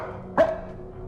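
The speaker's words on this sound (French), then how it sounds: "Je vais aller voir pourquoi le chien aboie." A dog in a horror video game gives a single short, close bark over a quiet background hum.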